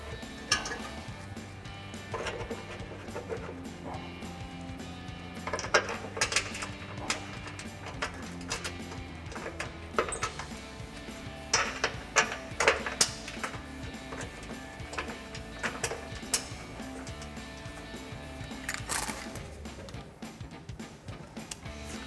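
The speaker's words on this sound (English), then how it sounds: "we're using our 13 millimeter socket to tighten these bolts" A ratchet with a 13 mm socket tightening exhaust bolts on a Jeep Gladiator JT, with runs of fast clicking and scattered metallic clinks from tools and parts, close and quiet.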